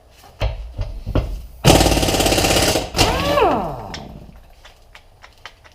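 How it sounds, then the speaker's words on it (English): An air impact gun hammers at rusty bolts holding a side rail to its mounting brackets on a Toyota Tacoma, giving loud rattling bursts of about a second each, followed by a whirring spin-down, with scattered clanks between. "attack these bolts that hold the side rail to the mounting brackets with an air impact gun"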